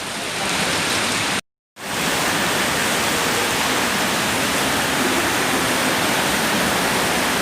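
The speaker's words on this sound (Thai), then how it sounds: "บรรยากาศฝนตกครับผม" Heavy rain falling constantly in Phaya Thai in a loud, even wash of noise, interrupted once by a brief moment of silence.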